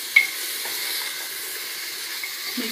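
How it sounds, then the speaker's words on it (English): Mutton pieces fry with onion in a pot, giving a faint, steady sizzling hiss with a soft stirring clack near the start and a few light scrapes, quiet throughout. "Fry mutton pieces along with onion for 1 or 2 minutes."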